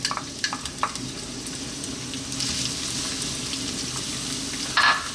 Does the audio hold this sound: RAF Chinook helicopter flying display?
no